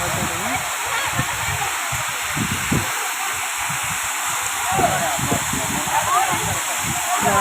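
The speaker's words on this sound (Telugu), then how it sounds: "పై నుంచి వాటర్ ఫాల్ వాటర్" Water at Thalakona waterfall pours down in a steady close rush that fills the whole clip, with wind and some low thumps and splashes mixed in.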